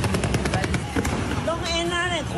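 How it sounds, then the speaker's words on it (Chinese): Aerial fireworks launched at night during a Xiaogang temple festival: a rapid run of sharp, loud bursts crackles densely, then wavering whistling tones rise over the continuing rumble and pops. "高通烟火不断发射，在夜空中绽放"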